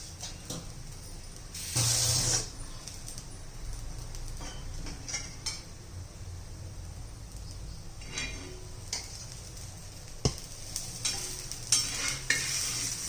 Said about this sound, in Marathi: आता तव्यावर टाकून घेऊया